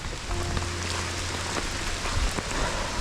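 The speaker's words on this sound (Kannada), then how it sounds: "ಗಾಯ್ಸ್ ಫುಲ್ಲು ಮಳೆ ಬರ್ತಾ ಇದೆ." Heavy rain pours steadily through a forest near Sirsi, a dense, continuous hiss of drops close by with no voices over it.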